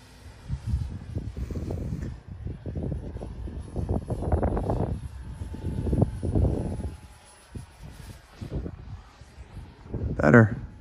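An X-29 model airplane flies into the wind, its motor a thin, steady whine beneath gusty wind buffeting the microphone, with talk running over most of it and a brief louder burst near the end.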